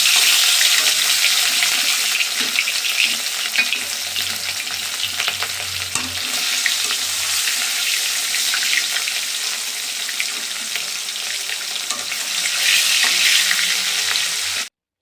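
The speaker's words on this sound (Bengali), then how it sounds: "এবার আমি মাছটাকে ভেজে নেব।" Pieces of rohu fish frying in smoking-hot oil in a wok: a loud, dense, continuous sizzle and spatter, close up, with faint low clatter partway through and no speech, ending abruptly.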